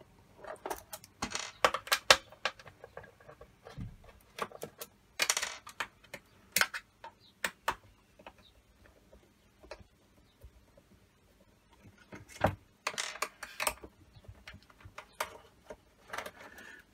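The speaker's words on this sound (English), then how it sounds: "Makes it much easier if you just take all the screws out." Small screws being taken out of an Xbox One S console casing, with scattered light ticks and clicks in sparse clusters, close and fairly quiet.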